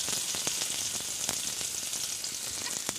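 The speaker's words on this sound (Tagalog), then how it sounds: "igisa lang po natin ito ng igisa na hanggang sa maging golden brown ang ating sibuyas, bawang at luya" Onion, garlic and ginger sautéing in a pan for home-style bopis, a steady close hiss of frying with light crackles and small ticks of stirring throughout.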